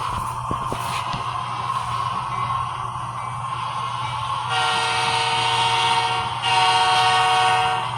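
A model railroad train creeps slowly along its track during a switching move onto track 2, giving a steady low rumble and whir with a persistent hum, brightening into a higher tonal whine partway through.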